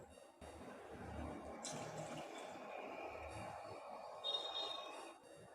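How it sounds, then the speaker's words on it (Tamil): Water pours from a cup into a cooking pot while aval payasam, a flattened-rice pudding, is made, a faint steady splashing trickle that lasts a few seconds in a quiet kitchen. "இப்போ இது நாலாவது கப் ஊற்றுறேன்"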